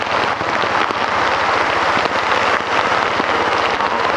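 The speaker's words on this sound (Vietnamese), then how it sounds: "mưa quá, mưa" Heavy rain pours down on a street in Saigon, Vietnam, making a dense, loud, steady hiss that fills the whole stretch with no clear speech on top.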